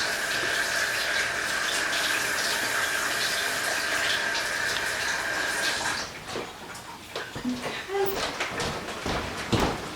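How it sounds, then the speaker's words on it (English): A tap runs steadily while hands are rinsed in a kitchen, a close gushing stream that stops about two-thirds of the way through, followed by a few light clatters and handling noises. "I'm going to give my hands a quick rinse before I start messing with that masher."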